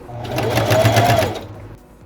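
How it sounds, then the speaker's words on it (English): A sewing machine stitches steadily along the shoulder seam of a t-shirt being made into a Dark Rey costume, a close, continuous mechanical whir with rapid needle rhythm for about a second and a half before slowing and stopping. "So I'm gonna sew right along the shoulder line."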